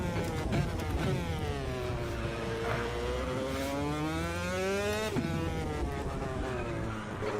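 Superkart engine in Automobilista 2 at Monaco, a steady high-pitched buzzing whine that rises and falls with revs, with a sharp shift near the middle, loud and continuous with no talk.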